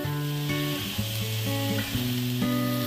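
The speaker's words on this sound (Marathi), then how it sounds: "आता आपण जे वाटण बनवून घेतलेलं होतं ते या फोडणीमध्ये घालून घेऊया।" Ground masala paste sizzles loudly as it goes into hot oil tempering for Malvani chickpea usal, a continuous close fry with spatula stirring and scraping.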